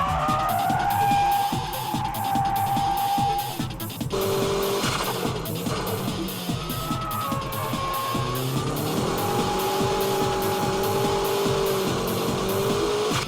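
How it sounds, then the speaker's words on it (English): A drift car slides through a controlled drift with the throttle only partly open, engine note rising and falling over tyre squeal, loud and continuous with shifting pitch throughout. "You can see he's controlling the drift without opening the gas all the way."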